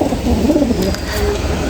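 Pigeons coo in a low, soft, throaty murmur, close by and continuous for a moment with a little room noise behind.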